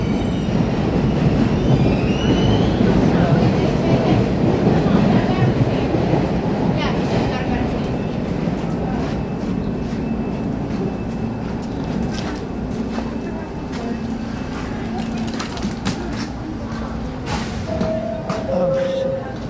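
A train runs on its rails, rumbling and clattering loudly and steadily, with high wheel squeals near the end. Someone talks over the noise.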